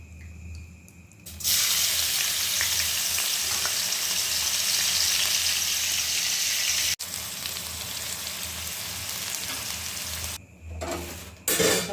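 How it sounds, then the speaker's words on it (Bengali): Gobindobhog rice frying in ghee for plain khichuri gives a loud, steady sizzle that starts abruptly after a quiet moment, continues evenly and then drops away near the end. "প্রথমে আমি চালটাকে ঘি দিয়ে ভেজে নেব।"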